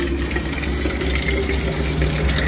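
Water runs steadily from a tap into a bottle at a roadside petrol pump during a Rajasthan cycling trip, an even rushing splash over a low background hum, with no talk.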